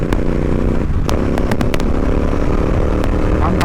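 A Royal Enfield Interceptor 650 with a Red Rooster performance exhaust roars loudly and steadily up close, with crackling pops breaking through the engine note.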